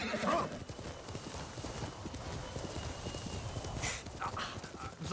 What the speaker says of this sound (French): prends ton cheval, hein, par contre